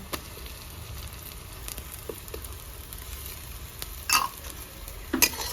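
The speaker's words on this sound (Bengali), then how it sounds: "2-3 মিনিট ভালো করে কষে নেবো" Onion, crushed garlic and ginger fry in a pan for a Bengali doi rui fish dish, giving a soft, steady sizzle with occasional stirring scrapes and two brief sharp clinks near the end.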